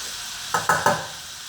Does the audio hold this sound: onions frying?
yes